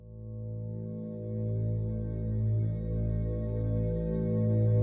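A deep, sustained synth drone in a tribal psytrance style hums continuously, thick and low with slowly shifting harmonics swelling and receding.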